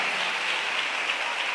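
Brief steady applause from a church congregation, an even wash of clapping without pauses or voices.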